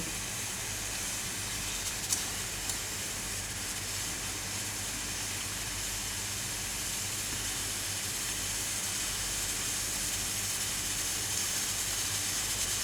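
A pressure cooker of masala khichdi hisses on a gas stove, a steady and broadband steam hiss that runs unbroken and fairly loud with only faint clicks.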